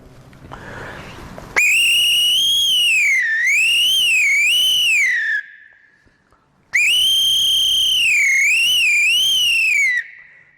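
A human voice imitates a police whistle: two long, loud, shrill blasts, each warbling up and down in pitch, separated by a short pause, with no talking.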